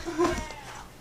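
A house cat lets out a short, strained meow, loud and close, followed by a quieter trailing cry; no one speaks over it.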